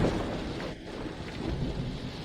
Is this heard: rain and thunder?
yes